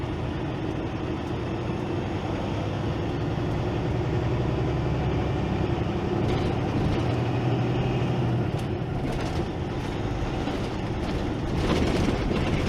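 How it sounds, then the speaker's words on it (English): A short-haul truck rolls over railroad tracks, its engine and road rumble loud and continuous, with faint clunks from the crossing near the end. "Nice and smooth over the railroad tracks."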